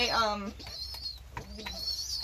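Pigeons in a loft give soft, throaty coos and a honking call, close and clear in a short burst with no talking over them.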